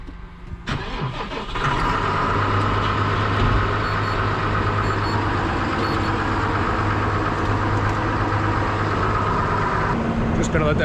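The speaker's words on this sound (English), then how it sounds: "Just gonna let that tractor warm up for a bit." A dairy-farm tractor engine starts and settles into a steady, loud idle as it warms up, with a low continuous hum under a voice talking nearby.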